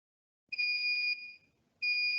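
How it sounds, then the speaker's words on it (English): Arduino buzzer triggered by a high water-level reading gives a clear, shrill electronic tone that sounds for about a second, falls silent, then starts again, alone with no talk. "When it goes high, you can hear the buzzer making noise."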